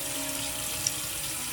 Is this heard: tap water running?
yes